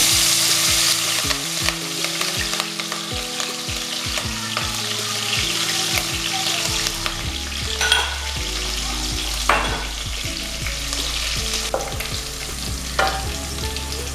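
Crushed garlic and ginger hit hot oil and fry with a steady, close sizzle, broken by stirring scrapes and occasional clinks. A rhythmic low music track plays underneath.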